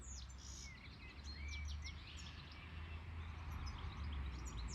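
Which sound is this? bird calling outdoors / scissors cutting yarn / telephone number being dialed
bird calling outdoors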